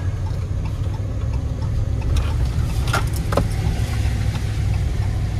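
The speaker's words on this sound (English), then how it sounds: "then we're driving around" A car driving slowly around an entrance lane, a steady low engine and road rumble heard from inside, with a few light clicks and knocks partway through.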